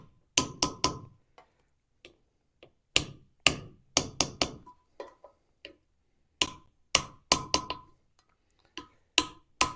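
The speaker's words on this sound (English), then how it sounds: "Now you just want to tap them till they seat." Sharp metallic taps from a hammer on an 11mm socket seating valve seals on 318 Magnum cylinder heads, struck in quick clusters of two to four light blows with short pauses, close and clear with no talk.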